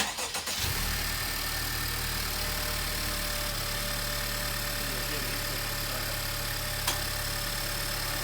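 A Honda Civic Type R engine cranks and catches on its first cold start, then settles into a steady, even idle that holds for several seconds, close and fairly quiet.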